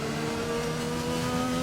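Steady droning engine of a Formula 1 race car in the F1 2020 video game, running underpowered with an engine problem at the Italian Grand Prix, a sustained even tone with no talk.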